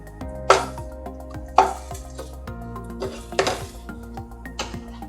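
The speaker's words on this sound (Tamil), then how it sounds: "இப்போ நம்ம இஞ்சி பூண்டு போட்டு வதக்கிட்டு இருக்கோம்." Ginger and garlic sauté in a pan for prawn salna, with a few sharp spatula scrapes and clinks against the metal spaced over a steady low hum, close and moderately loud.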